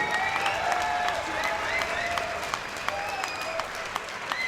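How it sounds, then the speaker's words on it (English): Indoor crowd at an amateur MMA contest in a hall gives sustained applause, dense clapping with scattered whistles and cheers, continuous and moderately loud. "can you give these two young warriors a massive round of applause"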